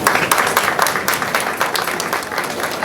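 Steady crowd applause at an academic conference, many hands clapping together in a continuous dense burst, fairly loud and close, with no talking.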